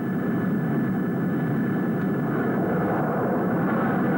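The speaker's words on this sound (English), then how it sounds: "your jet takes off, launching you into virtual airspace" A jet flight simulator in an arcade, running after a £2 coin-op start, gives a steady, loud low jet-engine roar as the virtual plane takes off, constant throughout with no talking.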